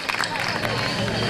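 Applause and crowd noise from an award ceremony audience honoring Special Olympics athletes, a dense, close wash of clapping over a short stretch with a little babble mixed in.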